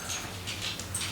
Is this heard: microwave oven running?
no